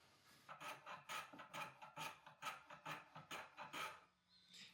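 A small hand plane cutting a 45-degree bevel on wooden buttons, about a dozen quick rasping strokes in steady rhythm, close and fairly quiet, with no talking.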